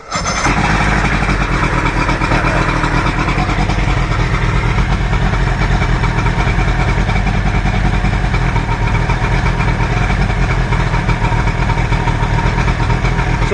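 A Johnson 70hp outboard motor on a Fletcher boat runs loud and close, a steady unbroken engine drone holding throughout with no pauses.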